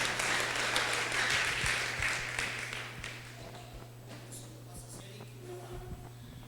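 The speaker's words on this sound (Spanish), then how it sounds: "Dale un aplauso fuerte a Dios" Audience applause in a Christian worship gathering, a broad wash of clapping that is loudest at first and gradually fades to a thinner patter over a steady low hum.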